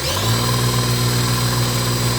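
Electric drill spinning a 3000GT car supercharger at low speed, a loud, steady close-up whine and hum with a constant tone throughout, no voices.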